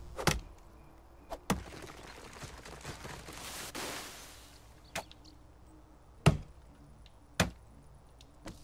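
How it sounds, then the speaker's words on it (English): Axe strikes on trees in Medieval Dynasty land as sharp, solid thwacks, about six spaced irregularly over several seconds against quiet forest ambience, with a brief rustling crash midway. "for having chopped down a bunch of trees"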